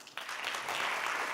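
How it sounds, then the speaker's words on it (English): A conference audience breaks into applause after a short quiet start, the dense clapping jumping up and then staying full and even through the rest of the moment. "Please give him a round of applause."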